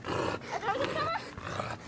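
Dogs in a dog pit give a close, rough growl mixed with whining yips that rise and fall over about two seconds.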